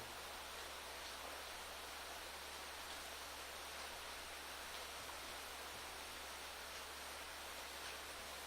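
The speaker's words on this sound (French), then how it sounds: "Ça va pas être évident avec la pluie. C'est pas mal de bruit." Steady rain falling outdoors at night near a farm, a constant dense wash of hiss with a low hum underneath, even and unbroken, no voices.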